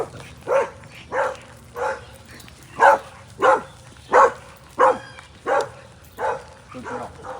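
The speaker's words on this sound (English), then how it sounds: "Get away from that barking a little bit." A dog barks about eleven times in a steady, evenly spaced series, each bark clear and fairly loud at moderate distance, with faint background noise between them.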